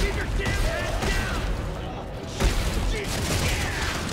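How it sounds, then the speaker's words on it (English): Gunfire erupts in the sci-fi horror game Dead Space 3 as a dense, noisy barrage of rapid shots and booms, close and loud with a brief lull midway. "Who's shooting at me?"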